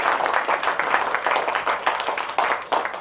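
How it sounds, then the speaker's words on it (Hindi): Audience applause at the 2nd Mumbai Independent Film Festival Awards 2022: dense, steady clapping from a crowd, sustained and fairly loud throughout with no break. "तो सभी के मेहनत के लिए मैं एक जोरदार तालियां सुनना चाहती हूँ।"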